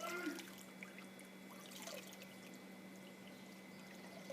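Water drains and drips steadily from wet, freshly scoured wool fleece lifted out of its wash water, a soft continuous trickle with small drips, close and fairly quiet, with no talking over it.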